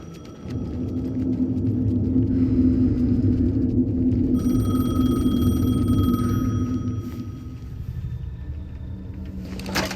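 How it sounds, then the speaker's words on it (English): A payphone ringing in the game Alan Wake II: an electronic ring tone sounds in bursts over a deep, ominous low rumble, moderately loud, with the rumble easing off near the end and no voices. "The payphone was ringing."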